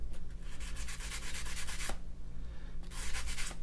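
Coarse-grit abrasive scrubs back and forth across the back of a knife blade, close and steady, in rhythmic rasping strokes with a brief pause in the middle before the rubbing resumes.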